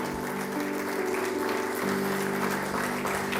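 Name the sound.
congregation applauding in church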